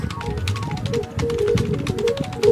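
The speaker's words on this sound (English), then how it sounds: "Could you hear me pushing the keyboard?" Computer keyboard keys pressed rapidly during play of the indie game Chase Goose 2, a fast irregular clatter of close taps over game music in the background.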